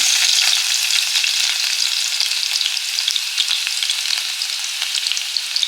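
Cumin seeds and finely chopped garlic sizzle in hot oil for stuffed masala brinjal, a steady, loud, bright crackling hiss that runs on without a pause.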